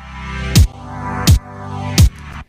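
Three punchy electronic kick drum hits from Sample Logic's Tronix land at an even pace, each a deep booming thump over a softer sustained background tone.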